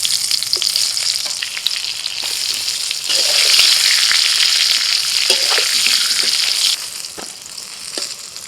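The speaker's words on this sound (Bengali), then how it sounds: "এবার বেগুন ভেজে নেব।" Eggplant pieces sizzle loudly in hot oil in a home kitchen pan. The hiss is steady and close, swells louder midway, then eases, with occasional stirring scrapes and no talk.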